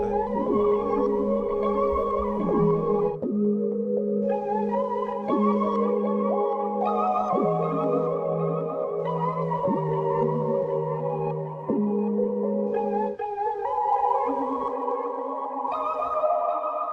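Sustained synth melody of long held tones sliding between pitches, swamped in the vast, spacey Galactic Verbs reverb preset for an ambient beat, with echoing tails smearing every note; steady and loud throughout, no voices.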